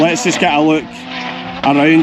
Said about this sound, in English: I'm sorry about the noise in the background, that's some crazy Astra van going down there.